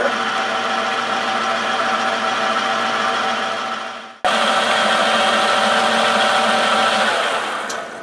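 A lathe spindle spins with a collet holder fitted, giving a loud, steady whirring hum that drops out briefly around the middle, then restarts and runs on before fading slightly.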